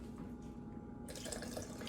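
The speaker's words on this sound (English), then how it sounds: "Add a bit more water." Water poured from a tap into a cooking pot, a faint steady trickling and splashing stream that swells louder partway through.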